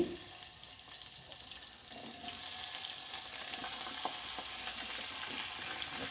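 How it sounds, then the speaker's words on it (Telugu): Cut vegetables with a quarter spoon of turmeric are stirred in a hot pan, giving a steady broadband sizzle with scraping and stirring clatter throughout, close and fairly loud with no talking. "ఇవన్నీ వేసుకొని ఒక్కసారి అయితే కలుపుకుంటాను"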